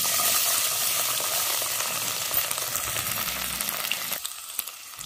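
Garlic cloves, cumin seeds and bay leaf fry in hot oil for a tempering of dhaba-style chicken, giving a steady close sizzle with scattered crackles and pops that ease off near the end.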